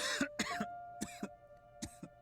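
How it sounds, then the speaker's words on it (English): A character in What Remains of Us breaks into a sickly, shoulder-rattling fit of coughing, four harsh bursts in quick succession with throat-clearing rasps between them, close and isolated. "he devolves into a fit of shoulder-rattling coughs"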